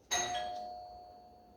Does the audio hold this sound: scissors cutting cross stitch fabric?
no